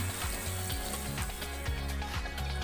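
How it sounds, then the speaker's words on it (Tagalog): Ox tripe sautéing in a pan for a papaitan-style beef tripe soup, a steady loud sizzle with repeated low stirring scrapes running throughout, close up and with no talking. "gigisa na po natin ang ating ox stripe or tuwalya ng baka"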